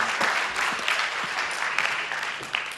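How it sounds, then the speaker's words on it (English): An audience at a presentation in Sofia gives a round of applause for the volunteers, a dense, even burst of many hands clapping close by, sustained for a few seconds without talk. "Give me a round of applause."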